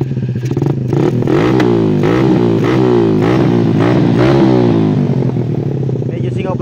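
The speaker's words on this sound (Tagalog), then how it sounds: "Medyo singaw pa yung tambutso natin." Suzuki Raider 150 motorcycle with a leaky exhaust, its engine revved repeatedly in loud, close bursts with a rough, sputtering edge, rising and falling for several seconds before settling toward idle.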